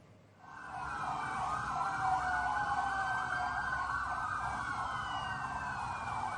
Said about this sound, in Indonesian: terlihat belasan kendaraan roda 2 dan roda 4 mirip kendaraan kepolisian membunyikan sirine